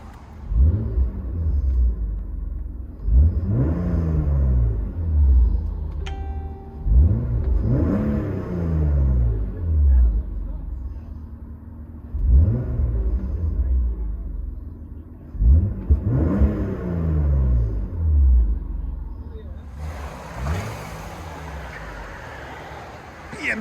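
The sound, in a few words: 1995 BMW M3 3.0L I6 exhaust revving, heard from inside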